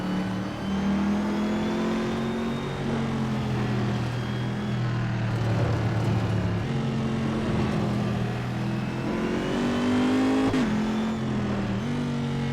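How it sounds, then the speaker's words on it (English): A racing car engine drones steadily, its pitch climbing and dropping through gear shifts, loud and close without any talking. "This car sounds so awesome."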